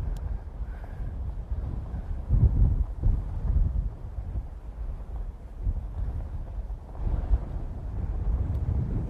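Steady wind gusts across open water during bass fishing from a boat on a grass-mat lake, a continuous low rumbling buffet on the microphone that swells and eases without a break.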